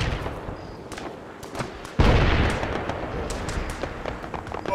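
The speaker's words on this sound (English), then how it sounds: "Mortar just hit right behind." A mortar round explodes close behind in the Tanoa Ops video game: a sudden loud, broad blast that lingers as a rumbling tail, amid scattered sharp gunshots before and after.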